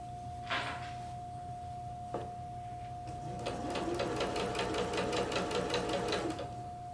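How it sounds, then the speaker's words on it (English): A sewing machine stitches a garment sleeve: two brief knocks first, then a steady, rapid mechanical chatter runs for about three seconds at close range over a faint constant hum. "Kind of easy to get your fabric caught underneath when you're sewing a sleeve."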